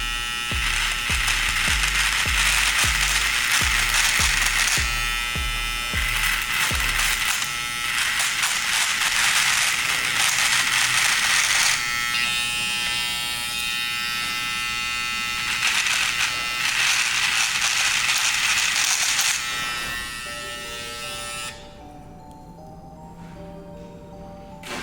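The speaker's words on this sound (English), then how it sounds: "I'm gonna test it up against Babyliss's FX1 trimmer on that same Black Ice" A Babyliss FX1 hair trimmer hums steadily against a Black Ice bristle brush, a close, continuous electric buzz with rattling bursts early on and a softer, steady whir near the end.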